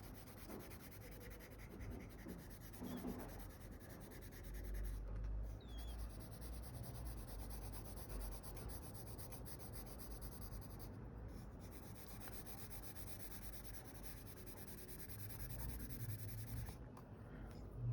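A pencil drawing on paper makes a steady, soft scratching and rubbing of strokes that runs continuously and fairly quietly, with no talk.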